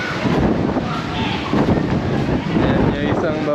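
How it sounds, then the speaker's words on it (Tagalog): Strong wind roars steadily across the microphone at People's Park in the Sky in Tagaytay, a dense, loud rush with small gusts, while a voice talks over it. "yung dito kasi yung hangin. Kaya mas malakas dito yan."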